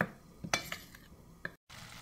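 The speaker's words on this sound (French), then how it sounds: "Bien mélanger tout ça." Fish and attiéké being mixed in a bowl, with a few soft scrapes and light clinks of a utensil over a quiet background, close and brief.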